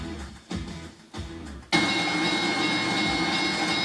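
Model trains running on the layouts of the Twin City Model Railroad Museum in St. Paul, with rolling rumbles and a few rhythmic clacks that give way to a steady, bright mechanical hum.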